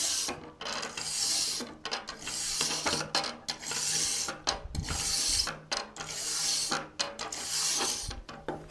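A stainless steel wire brush scrubs a piece of aluminum in one direction before welding, giving close, steady rasping strokes in repeated bursts with brief pauses between them.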